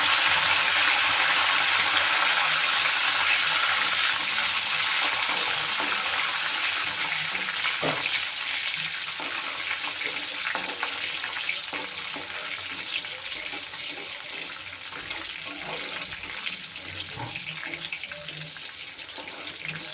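Green chillies, cumin and curry leaves fry in hot oil for a stuffed brinjal curry, giving a steady bright sizzling hiss that starts strong and gradually settles lower, with occasional small crackles.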